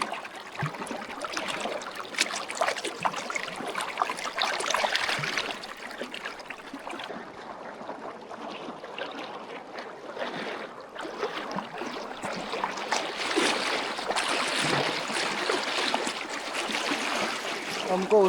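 River water flows and trickles around a spot in the middle of a clear river, a soft continuous rushing close by, while someone talks over it.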